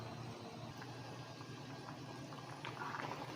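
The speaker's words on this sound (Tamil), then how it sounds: "இப்போது இது ஒரு கொதி வந்துடுது பாருங்க" A pot of kootu comes to a boil, giving off soft, faint bubbling and gentle liquid burbling that grows slightly busier toward the end, close by, with no talking.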